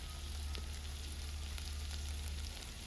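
Vegetable pieces frying for foxtail millet biryani, a faint continuous sizzle with a few soft ticks over a steady low hum in the background.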